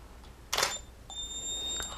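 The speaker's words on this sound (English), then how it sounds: "So that's the 560 version 3 firing off of the Odin receiver." A Speedlight 560 version 3 flash fires from an Odin wireless receiver, giving one sharp pop followed by a high, whining recharge tone, heard alone at close range.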